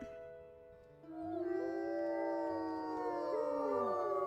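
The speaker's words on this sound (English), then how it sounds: "I love Esme's howl" A wolf howls in the video game WolfQuest, a long, close, wavering call that rises, holds and bends downward over several seconds, with no talking over it.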